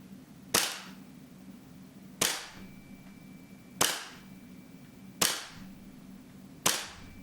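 An RPM MWS gas blowback gel blaster fires five evenly spaced single shots at close range, each a sharp crack with a short decaying tail, over a quiet background.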